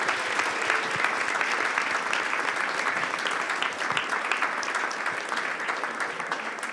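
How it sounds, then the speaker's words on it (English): Sustained audience applause at a live comedy show, a dense, steady clatter of many hands clapping close by that runs evenly throughout and tapers only slightly at the end. "A round of applause for Cecilia."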